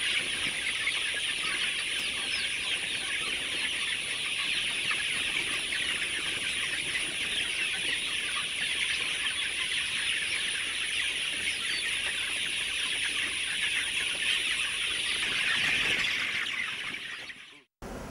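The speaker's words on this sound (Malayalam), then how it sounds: "ഈ എഗ്ഗർ നഴ്സറിയിൽ 1500 കോഴിക്കുഞ്ഞുങ്ങളാണ് ഇപ്പോൾ ഉള്ളത്." About fifteen hundred egg-laying chicks, roughly thirty days old, fill a poultry nursery with a dense, constant chorus of high peeping that stays loud and steady before cutting off at the very end.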